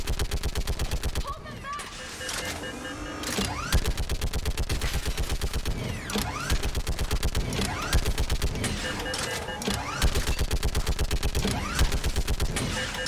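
A mounted turret in Mass Effect 3 hammers out steady rapid automatic fire on a bridge battle, loud and continuous with explosions cracking through, while a voice shouts an order over the din.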